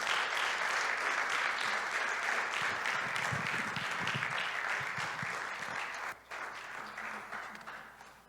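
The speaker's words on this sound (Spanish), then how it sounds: "Denle un aplauso al Señor amado." Steady, loud applause from a church congregation fills the whole stretch, with a few low voices and cheers mixed in and a brief dip near the end before the clapping continues.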